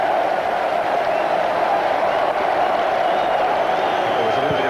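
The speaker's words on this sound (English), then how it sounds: "There was a little bit of a cheer went round the ground there" A packed football ground at the 1997 FA Cup semi-final between Chelsea and Wimbledon gives off a continuous, loud crowd roar that swells into a cheer and holds steady from start to finish.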